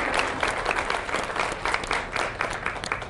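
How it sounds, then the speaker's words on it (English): Steady, dense audience applause at a women's business summit, close and even, filling the whole stretch without pause. "A round of applause, please."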